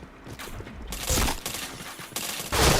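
Rapid bursts of gunfire from a mobile shooter game, several volleys in about three seconds, loud and close, with no talk.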